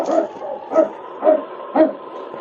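Husky in a sled dog team on a snowy Yukon trail barks four times in a steady rhythm, each bark fairly close and clear over quiet background.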